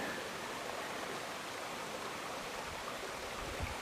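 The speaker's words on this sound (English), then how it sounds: "Some of the water is leaving this hole and going down river" Water from the Upper Elk River drains into a hole and rushes on downstream in a steady, broad hiss of flow, fairly quiet and unbroken, with no voices.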